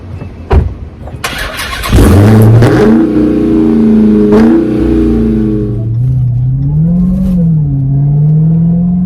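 A 2021 Dodge Charger SRT Hellcat Redeye engine barks to life with sharp revs, then settles into a loud, rumbling idle that rises and falls, close by with no talk.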